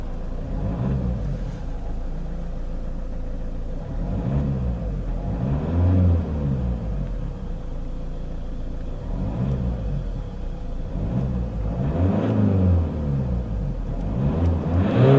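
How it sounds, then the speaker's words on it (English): A 2014 Opel Insignia 2.0 CDTi 140PS diesel saloon idles steadily and is revved repeatedly, with several rising and falling engine swells over a constant low rumble, heard close and alone. "let's power on the Insignia and see how it sounds"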